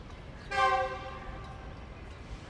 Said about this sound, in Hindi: कराची और रावलपिंडी के दरमियान चलने वाली रेगुलर पैसेंजर ट्रेन है ये